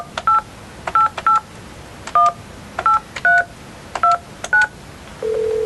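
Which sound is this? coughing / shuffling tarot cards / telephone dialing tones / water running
telephone dialing tones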